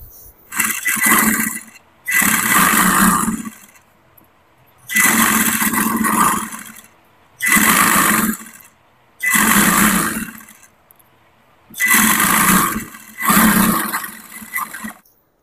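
A sewing machine stitches petticoat fabric cut from two metres of cloth. It runs in about six loud whirring bursts of one to two seconds each, with short silent pauses between them.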